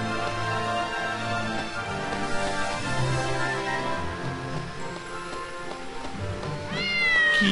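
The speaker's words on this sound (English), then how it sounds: "Kitty!" Several cat meows ring out over a soft patter like rain in the video game Simon the Sorcerer 3D, with a higher, drawn-out mew rising near the end.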